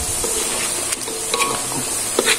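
Chicken sizzles loudly as it fries in a pan, a dense continuous crackle close up, with scattered scrapes and clinks of stirring.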